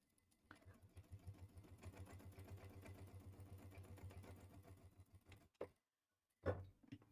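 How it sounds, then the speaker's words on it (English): A sewing machine runs steadily, top stitching along the edge of a crossbody bag, a close, even mechanical chatter for about five seconds that then stops, followed by a couple of short clicks and a thump. "I'm just going to top stitch down each edge 1/8 of an inch away at my top stitching length"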